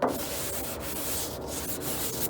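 Steady back-and-forth scraping of a sanding block worked across a 1967 Chevrolet Camaro body panel, a continuous close rubbing hiss with faint rhythmic strokes and no talking.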